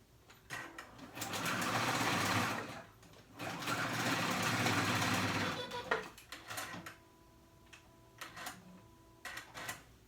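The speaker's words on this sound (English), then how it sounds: "I'll do a zigzag stitch to overlap them together." A sewing machine runs a zigzag stitch across elastic in two long, steady bursts of rapid mechanical whirring, then stops. Quieter clicks and handling noises follow at close range, with no speech.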